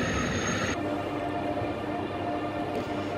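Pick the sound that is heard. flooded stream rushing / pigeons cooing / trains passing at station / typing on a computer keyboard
trains passing at station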